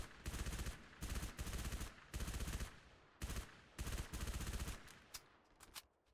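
Suppressed SMG in a video game firing short rapid bursts, about seven quick strings of muffled shots with brief gaps, close and clear with no talking.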